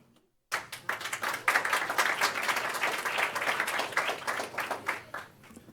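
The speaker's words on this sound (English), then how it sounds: "I like getting claps for not even winning anything." Audience applause at a school board of education meeting, starting abruptly after a moment of near silence, then a sustained clatter of many hands from a seated crowd that eases toward the end.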